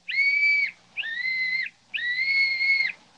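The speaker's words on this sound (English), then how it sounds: "Blow the whistle quick, Jimmy." A small whistle blown three times in a radio drama, each a steady, shrill two-toned tone lasting about half a second to a second, clear and close with short pauses between.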